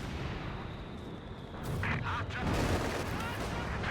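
Artillery guns firing in Company of Heroes 2 during a 4v4 match on the Redball Express map, a dense rumbling battle bed that swells into heavier booming blasts partway through, with a commentator's voice mixed in.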